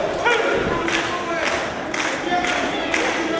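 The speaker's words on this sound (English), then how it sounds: "Crowd trying to encourage Lethal to fight back here." Wrestling arena crowd cheering and shouting to rally Jay Lethal during a tag match, a continuous loud roar of massed voices with periodic surges and scattered thuds.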